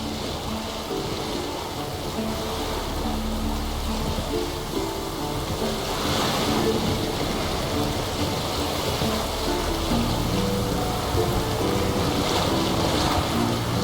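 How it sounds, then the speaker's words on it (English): Sails flutter aboard a boat at sea in The Witcher 3 video game, heard as a steady, dense wash of wind, water and flapping canvas, with brighter gusts swelling around the middle and near the end; no one talks. "Sails fluttering."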